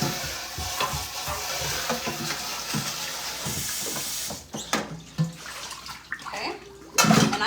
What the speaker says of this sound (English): I am now going to just rinse this out.